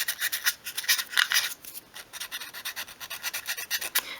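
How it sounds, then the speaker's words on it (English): Sandpaper rasps back and forth across a small wooden join on a 1/12 scale miniature chest of drawers, in quick, steady scratchy strokes, close and moderately loud, with no voices. "take your piece of sandpaper and you just want to sand off the top of that join"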